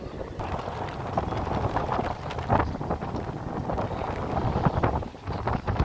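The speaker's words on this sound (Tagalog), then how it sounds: "makaporma, malakas ang hangin." Strong wind buffets the microphone in a steady, roaring rumble with gusty surges throughout, at the Baywalk waterfront in Calamba, Laguna.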